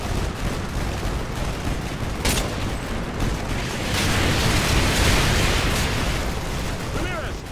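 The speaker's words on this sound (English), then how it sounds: "Mission received. Artillery inbound." In the video game Modern Warfare 2, an artillery strike sets off a loud, continuous roar of explosions and bursts of gunfire that swells in the middle, with voices heard under the barrage.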